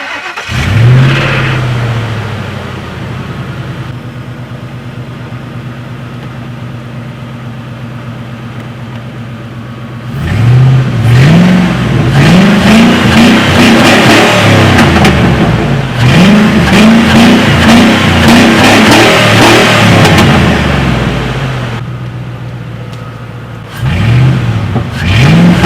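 A car engine fitted with a new cold air intake starts and idles, then is revved repeatedly in sharp, loud bursts before settling back to idle and revving once more at the end.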